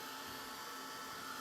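A craft blow dryer blowing softly, a steady close airy whoosh with a faint motor hum that runs unbroken and alone for about a second and a half.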